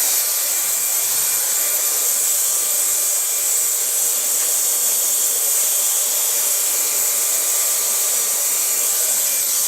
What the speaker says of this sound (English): Now dry the upper hair.